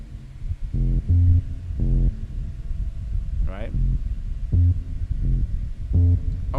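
A low bass line in a soca and jab fusion groove plays short notes, each doubled by a high octave on top and one below, in a choppy rhythm as a voice speaks briefly.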